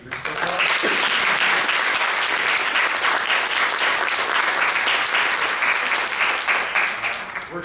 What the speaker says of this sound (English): give a round of applause one more time to our speakers so far